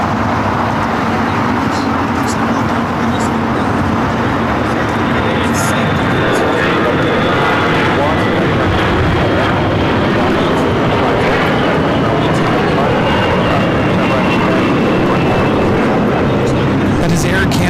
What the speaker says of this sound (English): That is Air Canada 792 taking off to Toronto on the A321.